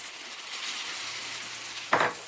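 Besan-stuffed big chilies fry in a pan with lemon juice just added, giving a steady close sizzle throughout and one brief louder scrape or stir near the end.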